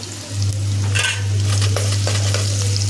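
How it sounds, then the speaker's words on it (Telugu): Ginger pieces frying in hot oil for a tempering, a continuous close sizzle with a few light clinks of utensils against the pan. "కొంచెం అల్లం తాలింపుకు"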